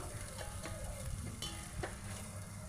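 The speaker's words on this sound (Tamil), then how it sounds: "அஞ்சு பெரிய வெங்காயம் கட் பண்ணி எடுத்து வச்சுருக்கேன் அஞ்சு பச்சை மிளகாய் முழுசாகவே கீராமல் போட்டிருக்கேன் நல்லா வதக்கிக்கலாம்" Chopped large onions and whole green chillies sauté in ghee, a soft, even sizzle close by with a few light scrapes and clinks of a spoon stirring the pan, no voices.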